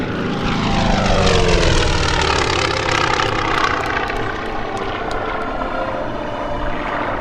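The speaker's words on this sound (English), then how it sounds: "the Collings Foundation's Grumman FM-2 Wildcat" A Grumman FM-2 Wildcat propeller warplane passes at an airshow, its loud radial-engine drone rising and then sweeping down in pitch as it flies by and slowly fades.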